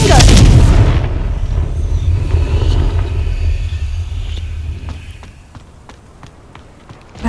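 A fire spell detonates in Hogwarts Legacy, opening with a loud, close booming blast whose rumble fades over several seconds while faint clicks and small impacts follow.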